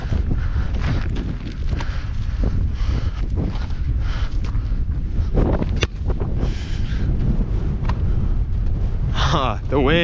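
Wind gusts across the microphone during a desert camping outing in the Mojave, a continuous low rumbling buffet that persists throughout while people talk and call out over it.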